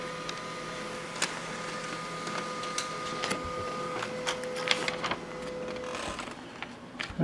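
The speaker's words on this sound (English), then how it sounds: "Our Canon laser printer." A Canon laser printer running through a print job, a steady mechanical hum with faint whirring tones and scattered clicks and ticks from the paper feed, continuous and fairly quiet with no talking.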